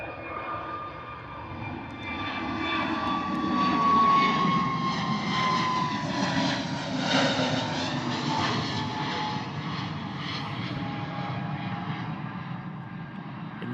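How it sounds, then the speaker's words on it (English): An Airbus A320neo climbs out after takeoff from Bristol Airport in crosswind conditions, its jet engines making a steady, moderately loud roar that swells and then holds as it passes, with no talk. "Another quite early rotation there from that 320neo."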